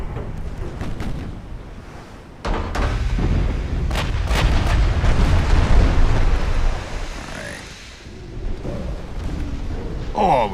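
Torpedo strikes explode against a steel warship in Ultimate Admiral: Dreadnoughts, set in an 1890s naval campaign with US ships. A rapid cluster of sharp blasts gives way to a sustained rumbling roar, loud and close, with a brief lull before more booms.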